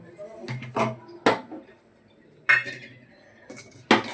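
A few sharp metallic clanks and scrapes of a cooking pot being moved around as ghee is added, spaced irregularly, close by with quiet pauses between.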